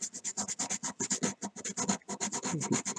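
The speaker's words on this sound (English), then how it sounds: "sometimes I rub the object on the sanding cloth" A hand-carved wooden fishing lure is rubbed back and forth on sanding cloth, making a quick, rhythmic series of about twenty short, dry scratching strokes, close and clear with brief gaps between them and no talking.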